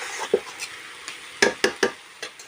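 Chicken stir-fried in a pan over low heat for a thin curry, heard as a series of sharp spatula scrapes and clacks against the pan, several spaced strokes over a quiet background.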